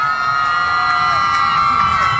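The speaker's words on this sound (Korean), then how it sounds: "박수와 함성!" A crowd at a Korean subway-line charity concert cheers and whoops loudly over sustained musical tones, lively shouting blending with scattered clapping throughout.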